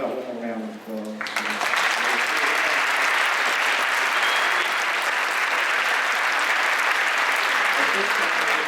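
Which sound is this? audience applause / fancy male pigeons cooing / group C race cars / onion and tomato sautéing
audience applause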